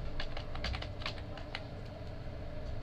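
Close, continuous typing on a computer keyboard with a quick, irregular patter of key clicks and no talking.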